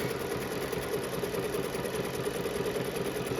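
A sewing machine runs a satin stitch: a steady, fast, even mechanical whirr with rapid needle clatter, close and continuous with no pauses.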